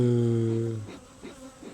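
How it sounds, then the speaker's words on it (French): Small bees buzzing around a hive on a rock on a farm, a close, steady drone that fades out partway through, with faint chatter afterward. "il y a 4 petites abeilles"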